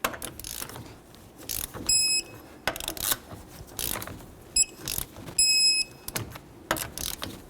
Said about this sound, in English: let's torque these to 76 in a crisscross manner